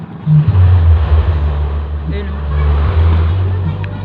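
A twin-engine motorboat drones steadily with a low, rumbling hum, close and loud, with water noise and a voice speaking over it.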